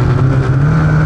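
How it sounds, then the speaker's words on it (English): A snowmobile engine runs loud and close, holding a steady throaty drone with a slight rising rev that never drops away during the moment. "get out, ride some snowmobiles, and burn some gas"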